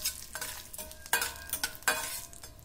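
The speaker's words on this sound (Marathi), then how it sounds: "मोहरी व जिरे तडतडले पाहिजे." Mustard seeds, cumin and curry leaves crackle and spit in hot oil, with soft sizzling and a few sharper pops in quick bursts.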